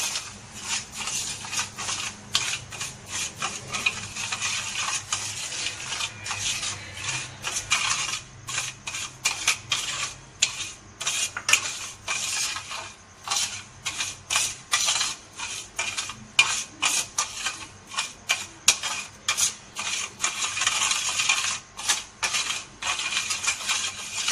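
A spoon stirs sugar into milk in a pot while making sweet tikiyan, a close, steady stream of rapid metallic clinks and scrapes against the vessel that continues with short pauses and no voice over it.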